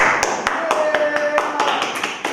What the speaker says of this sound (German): Ganz großer Applaus